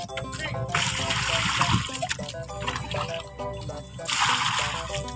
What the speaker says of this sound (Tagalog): Lagyan po natin mga kadods ng tubig dagat.